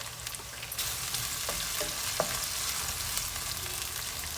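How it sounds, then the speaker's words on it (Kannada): Ginger garlic paste frying in oil makes a low, even sizzle throughout, with occasional faint stirring scrapes and no talking. "ಹಸಿ ವಾಸನೆ ಹೋಗೋ ತನಕ ಎಣ್ಣೆ ಫ್ರೈ ಮಾಡ್ಕೋಬೇಕು."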